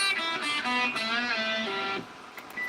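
A short melodic guitar lick plays several quick bending notes, then fades into a quieter, noisy tail.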